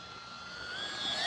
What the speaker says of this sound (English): Wanted to give you a shot of this plane coming through and just cruising